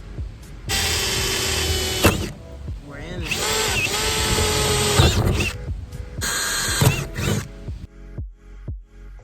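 A power drill boring the first holes through a camper van's metal roof for a MaxxFan roof fan: loud sustained whining bursts with brief stops and restarts, close up, then a few clunks and handling noises at the end.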